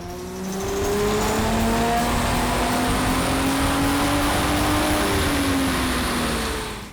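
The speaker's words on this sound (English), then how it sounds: "we're going to make a stock dyno run so we have some baseline horsepower and torque numbers to start with." A stock 2005 Ford Mustang V6 with an automatic transmission runs hard on a dyno, its engine droning loud and steady as it climbs through the revs over several seconds, with no talking.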